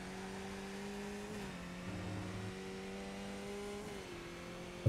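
Skip Barber race car in a Nordschleife racing video game, its engine droning loud and steady as it accelerates through the gears, with two clear upshifts where the pitch drops and climbs again.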